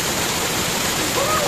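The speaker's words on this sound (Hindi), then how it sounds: "Only water falls." A waterfall where people go to bathe roars with a dense, steady rush of falling water that fills the whole clip, loud and close, with no break or change in intensity.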